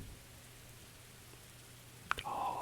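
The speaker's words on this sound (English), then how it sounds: "Oh, look, it's raining." Light rain in the Satisfactory video game makes a soft, faint, even hiss of patter, quiet throughout, with a sharp click and a brighter rush of sound near the end.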